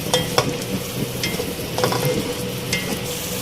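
Spices stirred and fried in a karahi for Balochi karahi, a steady sizzle of hot oil with scraping spoon strokes against the pan, close and continuous without talk.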